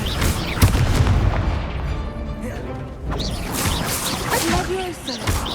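In the Hogwarts Legacy video game, a Confringo spell goes off as a loud booming blast with crackling, whooshing bursts amid other spell effects and busy game audio.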